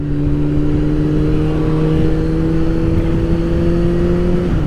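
A 1999 Kawasaki ZZR 600 motorcycle pulls hard through the gears, its engine a steady, loud droning whine that climbs in pitch and holds close and continuous before easing off at the very end.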